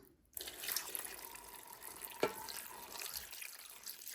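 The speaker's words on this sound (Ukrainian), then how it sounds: "закинула в велику кастрюлю та заливаю водою." Water running into a large pot over peeled, cubed pumpkin, a steady close splashing stream that starts abruptly and continues with a faint background hum.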